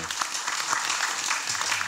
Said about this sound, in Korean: 홍삼 파워 임시완 배우께 박수 한번 부탁드리겠습니다, 여러분